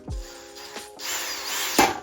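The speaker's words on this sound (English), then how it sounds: "if you're gonna use a power drill, make sure your bolts are threaded in at least" A power drill backs out riser bolts on a Honda Shadow Spirit motorcycle, giving a short whirring run between quick bursts and a sharp tool knock near the end, close up with no talk.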